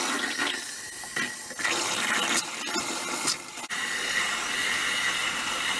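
Several RV water taps run at full flow while a pump pushes pink antifreeze through the lines during winterizing, a steady loud rush and hiss with sputtering bursts and brief dips as air and liquid spit from the faucets.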